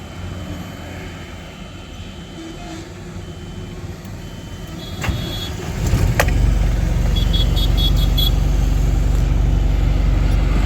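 A lorry's diesel engine is started after a quiet stretch of outdoor background with a few beeps, then settles into a steady, loud low rumble running close by for the rest of the time.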